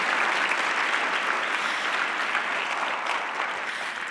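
A conference audience at a theater event claps for the speakers, a full, even burst of crowd applause that stays strong throughout and only starts to fade slightly at the very end.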